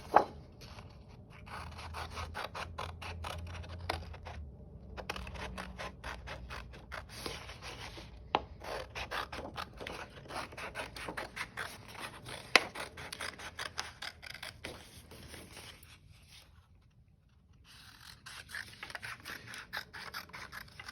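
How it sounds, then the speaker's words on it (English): Scissors cut felt pattern pieces for a flower gnome hat, a close, quiet run of dense snipping and rubbing with brief pauses between cuts. "all we do is just cut out the patterns"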